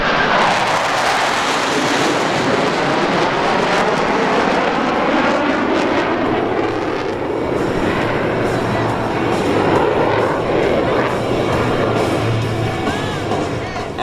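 U.S. Navy Blue Angels jets breaking out of a diamond formation in a low brake cross at an airshow, a loud continuous roar of jet engines sweeping overhead throughout, with faint voices mixed underneath.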